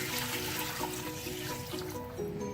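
Water pours from a jug into a pot for mutton yakhni with ginger, a continuous close splashing gush that runs steadily throughout without any talk.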